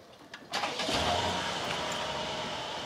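A warm Mercedes S500 V222 engine with a flap exhaust cranks and catches after a couple of faint clicks, then settles into a steady, fairly loud idle with a low rumble close by.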